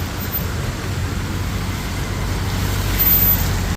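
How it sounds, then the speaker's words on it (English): Cars and motorcycles stream along a street by Chiang Mai's old city, a steady, busy wash of engine rumble and road noise with no pauses. "Look at all these cars and motorcycles."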